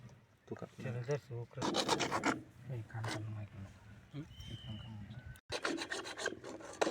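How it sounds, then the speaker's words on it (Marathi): A handsaw rasps back and forth through a pipe during a pipeline joining job, giving repeated bursts of scraping strokes close to the microphone, with a voice talking over and between them. "तर आपण त्याला करवतीच्या साह्याने या ठिकाणी असं कट करून"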